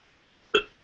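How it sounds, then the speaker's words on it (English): A single short human burp bursts out once, close and fairly loud, and fades quickly in an otherwise quiet moment. "I burped"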